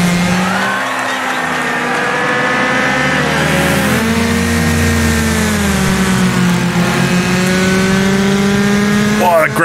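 A small Gremlin racing car in Wreckfest holds its engine flat out through a right-hand corner, a loud, continuous engine drone with shifting pitch and faint tire noise, steady for about ten seconds.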